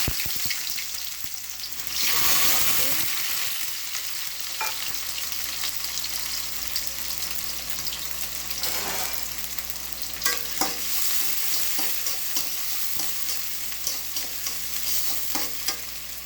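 Tender young sweet pumpkin frying in a pan with salt and shrimp nearby, a dense continuous sizzle with occasional stirring scrapes and clatters, loud and close, without speech.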